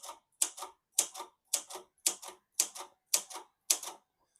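Keys strike on a 1980s Silver-Reed Silverette Seiko portable typewriter, eight crisp clacks at a steady half-second rhythm, each a sharp double tap, close up with no talking.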